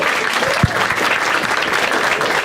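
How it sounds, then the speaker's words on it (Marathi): A comedy show audience claps for two people, a dense, steady burst of applause from a crowd filling the room, with a faint voice underneath. "एकदा टाळ्या होता त्या दोघांसाठी"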